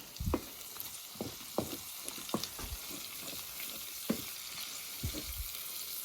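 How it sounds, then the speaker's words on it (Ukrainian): Pork cracklings sizzle steadily in a pan, with a continuous crackling hiss broken by soft irregular pops and stirring clatters; no voices. "Пам'ятаємо, що у нас шкварчать шкварки."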